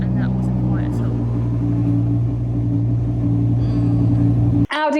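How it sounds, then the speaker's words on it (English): An Audi R8 V10 Plus idles in a closed garage, its deep steady engine rumble droning loud and close, with a sharp cut near the end. "We are currently going to start the R8."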